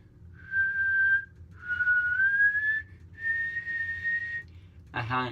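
Someone whistles a sustained high note in three drawn-out phrases, the middle one sliding slightly upward, with a soft voice briefly at the end.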